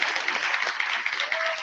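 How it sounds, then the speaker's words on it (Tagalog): Steady applause from a crowd, a dense wash of clapping that carries evenly throughout without a break. "Tama na palakpak."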